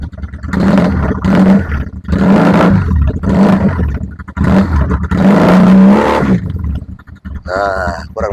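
Benelli motorcycle engine revving at high throttle, with repeated loud blips roughly every second that rise and fall in a steady rhythm, close up and continuous, then fading out near the end.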